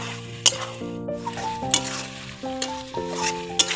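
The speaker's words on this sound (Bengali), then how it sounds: "আলু চিংড়ি মাছটাও দিয়ে খুব ভালোভাবে কষিয়ে নিতে হবে" Jackfruit, potato and prawns stir-frying in a pan, a steady sizzle with scraping stir strokes and a few sharp clinks of a utensil against the pan, close and alone with a soft tonal hum underneath.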